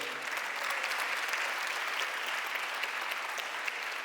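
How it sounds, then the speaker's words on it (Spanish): Church congregation applauding during a baptism service, a continuous, fairly soft wash of many hands clapping at an even level from start to finish. "Démosle un aplauso al Señor fuerte por eso."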